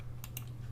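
Two quick, faint keystrokes on a computer keyboard while working in Blender, soft clicks over a low steady hum.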